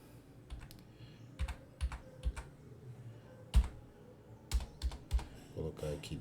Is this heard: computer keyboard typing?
yes